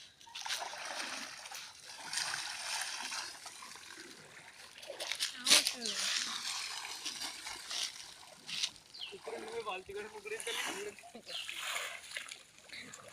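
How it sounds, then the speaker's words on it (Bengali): A man bathes in a pond in Hooghly, West Bengal, and water splashes and trickles steadily around him, with a sharp louder splash partway through, while people talk nearby outdoors. "আপনারা দেখুন কিভাবে পুকুরেতে স্নান করছে অথচ জল বাঁচাচ্ছে।"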